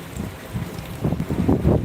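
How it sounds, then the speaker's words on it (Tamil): Gusty wind from Cyclone Fengal buffeting the microphone in a low, rough roar that strengthens toward the end. "காற்றடிக்குது"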